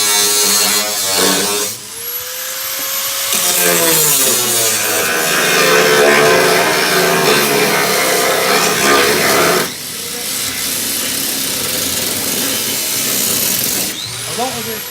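Cutting discs grind through a double-skinned car sill on a Triumph Stag body repair, a loud, continuous, close whine with pitch shifts and a brief break before the cutting resumes.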